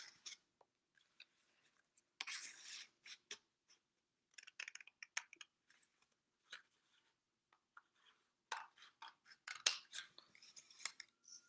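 Scissors snip through paper for a craft star wand, a series of close, crisp cutting strokes in irregular bursts separated by short pauses, quiet overall with no talk.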